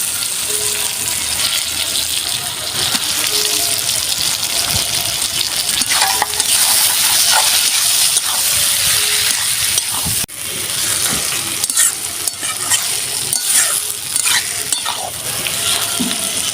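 Boiled potatoes tossed into spiced oil in a pan for egg and potato curry, sizzling loudly and continuously up close while a spoon scrapes and stirs them in frequent strokes.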